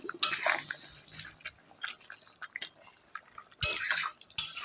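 Koi fish being stirred in a bubbling curry for Bengali tel koi, soft liquid bubbling and sloshing with scattered spoon clinks and a louder splashy stir near the end.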